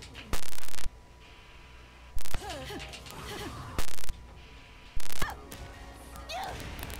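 Bayonetta 2 game combat with a horse kick attack and horse neighs, running on the CEMU emulator: several loud clipped impacts, sweeping whinny-like tones and game effects, with a voice talking between them.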